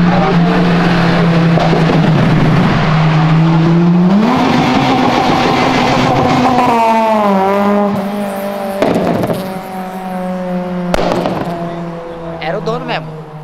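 A Honda Civic Si engine revs hard in sweeping rises and falls, then bounces off the rev limiter in a stuttering burst before dropping back toward idle, loud and close throughout, with voices talking over it.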